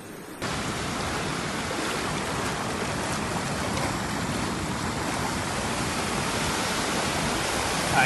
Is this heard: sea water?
yes